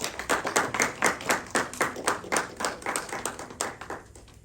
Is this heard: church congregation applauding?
yes